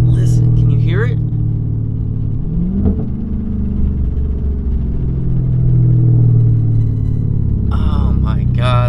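A Dodge Hellcat with a broken transmission drones with a steady, loud low rumble as the driver lets off the gas, the harsh tone holding throughout, with a voice briefly near the start and end.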